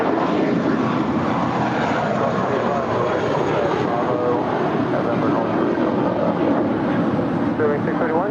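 A Spirit Airlines jet at LAX roars steadily with a broad, sustained engine rumble that fills the scene, voices talking over it now and then.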